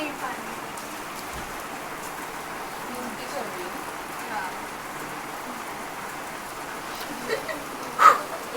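Heavy rain falls outside, a steady hiss of drops on surfaces that runs throughout, with a person speaking over it.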